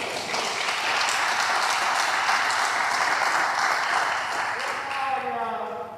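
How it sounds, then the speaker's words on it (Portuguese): A church congregation applauds in sustained, dense clapping that holds steady throughout, with a voice rising faintly underneath near the end. "e a igreja aplaude o Senhor"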